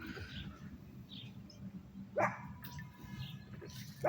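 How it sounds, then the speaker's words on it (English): Dogs bark a few times at a distance, sharp short yelps separated by pauses, over a quiet low background hum. "They're still barking."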